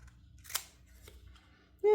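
Scissors trimming planner paper, a couple of crisp close snips spaced apart against a quiet background, followed by a brief voice at the end.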